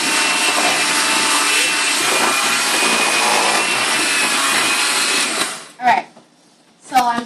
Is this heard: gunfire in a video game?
no